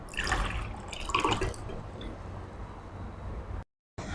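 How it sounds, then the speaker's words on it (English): Water poured from a cup into a glass for a salt-and-sugar science experiment, a close, continuous splashing trickle that stays steady for about three and a half seconds and stops abruptly near the end. "Now take 1 cup of full water and pour inside the glass."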